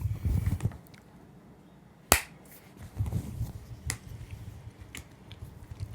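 A single sharp hand clap marks the start of recording in a quiet indoor space, a loud isolated crack standing out against faint low background rustle and a few softer ticks.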